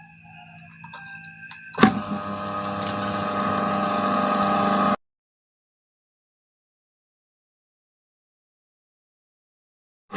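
A washing machine dynamo motor clicks on, then spins up with a whirring hum that holds steady for about three seconds before cutting off abruptly into silence; close and clear, with no talk.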